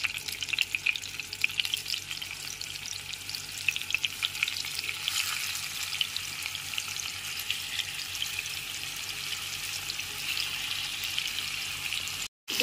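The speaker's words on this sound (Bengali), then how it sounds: "এবার ওই একই তেলের মধ্যে দিয়ে দেব লবণ হলুদ মাখানো চিংড়ি মাছগুলো।" Shrimp coated in salt and turmeric sizzling and frying in hot oil in the same pan used for pointed gourd, a steady crackling hiss with occasional stirring, close by, with no talk, ending abruptly.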